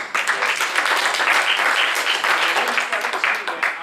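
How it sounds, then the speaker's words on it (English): Audience at a county commissioners meeting in Cherokee claps in a dense, fairly loud burst of applause that carries on steadily throughout. "I hear most of the clapping"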